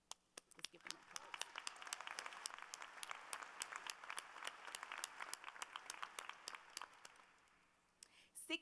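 Audience applauds the thesis advisors at a university political science commencement ceremony, with steady clapping from a large hall that tapers off near the end before a few final claps.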